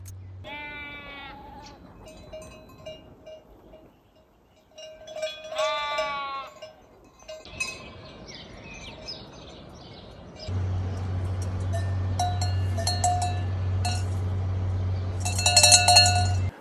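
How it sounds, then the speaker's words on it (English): Sheep bleat on and off while small bells on the grazing sheep clink and tinkle among them, growing busier and louder toward the end amid outdoor mountain ambience in Switzerland. "listening to those little bells on the sheep"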